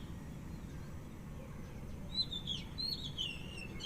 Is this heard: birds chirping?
yes